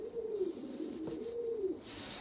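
Pigeons coo in a loft where cock and hen birds are kept, one steady rolling coo with a warbling low tone lasting nearly two seconds, close and fairly clear over a faint background hiss.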